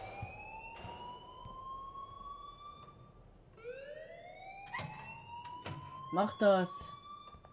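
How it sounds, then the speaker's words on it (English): Alarm in Life Is Strange, a rising and falling electronic siren wail that sweeps upward twice and drones steadily, loud and close, with a short spoken phrase near the end. "please turn off that alarm since that's your job"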